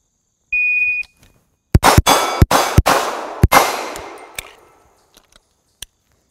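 Pistol shots ring off steel plates on a Steel Challenge stage: a beep, then about seven sharp shots in quick succession, each with a bright metallic clang that decays, followed by a few faint later pings.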